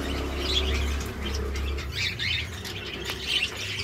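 A bird calls in short squawks and chirps, fairly faint against a low background hum.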